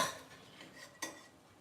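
A metal spoon scrapes and clinks against a pan while scooping cooked ground turkey: a soft scrape, a brief lull, then one sharper clink, all faint and close with no voices.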